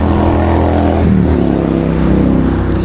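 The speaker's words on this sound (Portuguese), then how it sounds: "Tem uma moto barulhenta aqui." A noisy motorcycle passes close by with a loud, steady engine roar that shifts in pitch about a second in and then keeps droning throughout.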